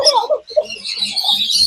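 Small birds at a pet sanctuary chirp and tweet in quick bursts close by, the calls layered with faint voices in the background.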